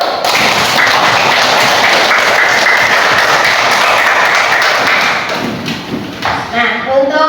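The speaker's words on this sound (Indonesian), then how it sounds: "Tepuk tangan dulu." A class of primary schoolchildren claps together in a loud, dense burst that thins into scattered claps and thumps, with children's voices chattering underneath.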